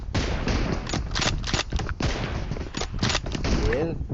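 Rapid bursts of automatic gunfire crackle through a BGMI team deathmatch sniper game, dense and close, with a player talking excitedly over the shots.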